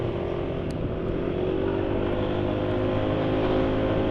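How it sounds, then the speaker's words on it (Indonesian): Motorcycle engine idling or running steadily with Mazola corn oil used as lubricant, a continuous close, dense rumble with an even drone and no pauses. "Suara-suara di mesin sudah makin banyak."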